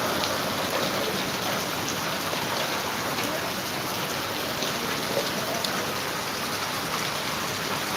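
A heavy downpour in Jamkandorna produces a dense, unbroken hiss of rain beating on surfaces, steady and fairly loud throughout with no talking.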